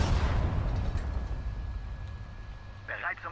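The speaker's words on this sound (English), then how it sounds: "I'm gonna try and actually just use my artillery guns to shoot these mines" Artillery fire and mine explosions in the Sudden Strike 4 war game on PS4, a deep rumbling blast that decays over a few seconds, with a brief voice near the end.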